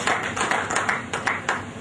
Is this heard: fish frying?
no